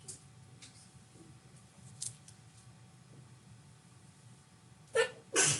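A sharp sneeze bursts out near the end after quiet classroom noise, followed quickly by a second loud burst.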